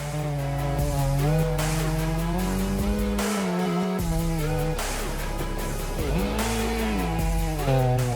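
A chainsaw whines loudly and continuously, its pitch dipping and rising as it bites into tree branches high up, with brief drops in revs between cuts.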